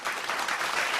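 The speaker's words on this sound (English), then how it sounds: "Let us welcome her with a warm round of applause" An audience at the closing session of a leadership conference claps, a dense, steady burst of applause lasting about a second.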